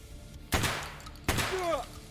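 Two loud 12-gauge shotgun blasts in the video game Escape from Tarkov, fired against a Trooper armor target, spaced under a second apart, each with a sharp crack and a ringing decay.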